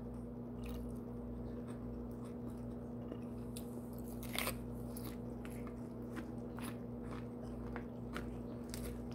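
Crunchy food bitten and chewed close to the microphone during a bariatric diet mukbang, a series of crisp crunches and munching sounds at an irregular pace over a steady low background hum.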